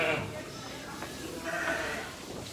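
Ewe bleating while giving birth to her lambs, a few calls rising over steady outdoor background noise, with a person talking nearby.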